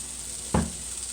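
Worcestershire sauce hits a hot pan of ground beef fried rice with a single short burst of sizzle, close and fairly loud, over a steady faint background hiss.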